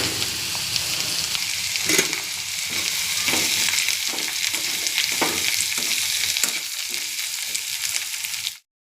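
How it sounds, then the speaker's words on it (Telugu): Radish pieces fry with onions in a hot pan, giving a dense, continuous sizzle close by with a few stirring scrapes, then cutting off abruptly at the end. "ఉల్లిపాయ ముక్కలు ఫ్రై అయ్యాయండి, ముల్లంగి ముక్కలు వేస్తున్నాను."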